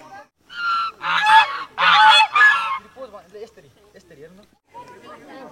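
Several swans honk loudly on Mirik lake in a cluster of harsh, overlapping calls, then fade to softer scattered calls and faint background chatter.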